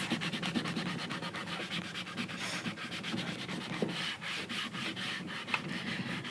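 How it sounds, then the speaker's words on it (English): Steady back-and-forth rubbing on painted wooden furniture, working paint off along the grain for a Swedish finish; a continuous close scratchy rasp with even strokes and no talking. "And the more you rub, probably the more will come off."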